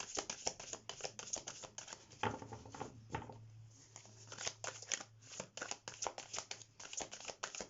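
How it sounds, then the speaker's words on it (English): Quick, crisp riffling and soft slaps of tarot cards being shuffled close by, bursts of rapid crackle with brief pauses, faint and without talk. "Let's shuffle the cards"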